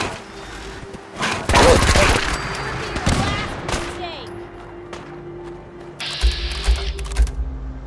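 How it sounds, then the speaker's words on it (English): Bursts of rapid gunfire in the video game Fallout 4 crackle in the distance and nearby, mixed with mechanical clicks and ratcheting, while voices speak intermittently. "Yeah, I hear gunfire."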